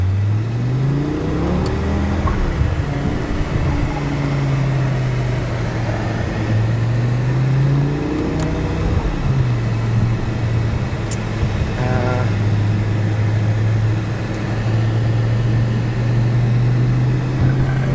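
An 800 HP G-Power BMW M5 V10 Bi-Kompressor Hurricane RR cruising on a German Autobahn, its engine droning steadily from inside the cabin, with a smooth tone that rises and falls as the speed shifts, under continuous road and wind noise.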